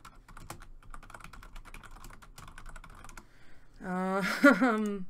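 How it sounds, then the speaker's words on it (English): Rapid keystrokes clatter on a computer keyboard for about three seconds, close and fairly soft, while typing in Discord. A voice begins speaking as the typing stops. "Just typing in Discord."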